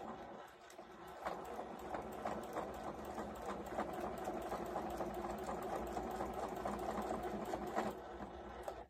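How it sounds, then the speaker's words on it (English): A sewing machine runs steadily up close, stitching through three layers of thick quilted fabric, its rapid mechanical stitching rhythm whirring continuously with a slight labored tone, no talking. "this is a lot for your sewing machine to go through"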